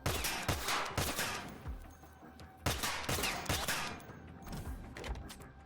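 A gun in the Heartshot VR video game fires in rapid, irregular bursts until it runs out of ammo, with loud sharp shots close up and brief gaps between volleys.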